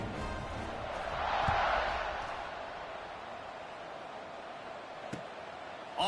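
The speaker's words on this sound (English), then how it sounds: "this crowd is buzzing after that last score" A stadium crowd buzzes in a college football video game, Ohio State against Florida State, as a steady broad roar that swells briefly and then settles into a constant wash of noise.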